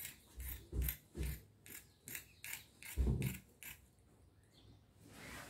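Scissors snip through dress fabric along a marked boat-neck outline, about ten quiet, close cuts in a loose rhythm, with a short pause near the end.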